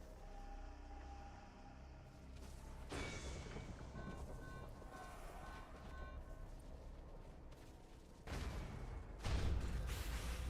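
Explosions from a wither in modded Minecraft: a heavy rumbling burst hits around three seconds in, then a second, louder blast near the end, over a busy layer of game sounds.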